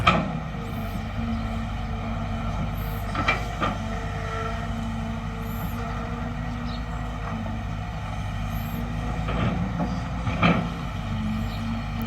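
Kobelco SK200 Mark 8 Super excavator working in normal mode while digging out a pond embankment, a steady low diesel drone with occasional clanks and surges, heard from a short distance.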